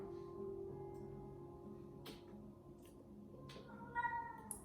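A cat meows faintly a few times in the background over a low steady hum, with a slightly louder cry near the end.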